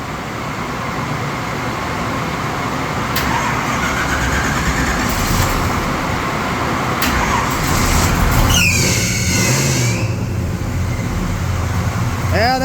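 A car engine revs hard and continuously on a dyno in fourth gear, a loud sustained roar with a loose belt, and brief voices and chirps break through in places.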